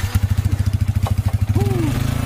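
A motorcycle engine chugs close by in a steady, rapid pulsing rhythm that dominates the moment, with a brief rising whine near the end.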